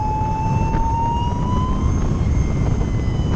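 Lightning Strike electric motorcycle with a carbon fiber fairing: a steady high motor and reduction-gear whine slowly climbs in pitch over a loud, continuous rumble of road and wind noise, close up.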